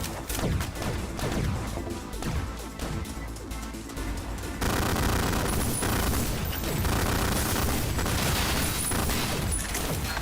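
Guns fire in the retro shooter Ion Fury in dense, rapid volleys of overlapping shots that continue for about ten seconds and get louder halfway through, with no talking.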